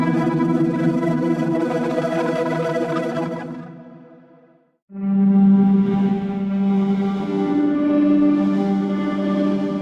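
Granular synth patch shaped by drawn envelope curves: a dense, shimmering sustained chord with chorus-like texture fades out, drops briefly to near silence, then swells back with a brighter, evolving tone and shifting high overtones.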